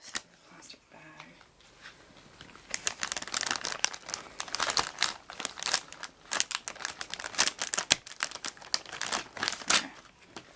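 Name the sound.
plastic bag crinkling while being handled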